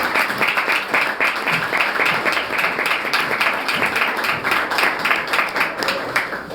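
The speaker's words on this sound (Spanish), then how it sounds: "les pido un fuerte aplauso para ella el día de hoy" A debate audience claps for a speaker, a sustained rattle of many hands with slightly pulsing rhythm, fairly loud and close, without talking over it.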